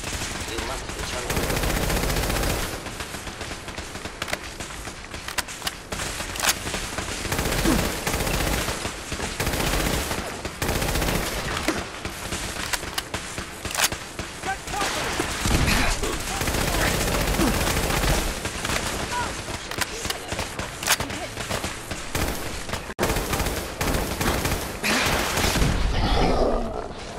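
Sustained automatic gunfire from a heavy weapon in Fallout 4, continuous rattling bursts with booms, loud and dense for nearly the whole stretch, with game effects layered over it.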